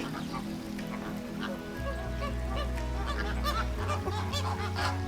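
A flock of black-bellied whistling ducks at a zoo calling together, with busy overlapping honks and whistles over a low rumbling background hum.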